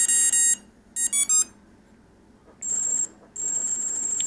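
An Emax BLHeli 20A ESC sounds sharp, close electronic beeps: a short burst, a quick group of three, then two longer sustained tones after a pause, clear with no talking.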